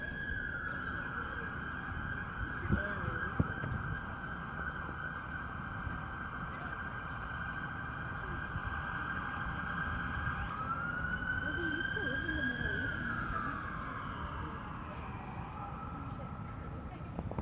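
A siren wails steadily in the distance, its pitch holding then sliding down, heard over traffic rumble and a person talking nearby.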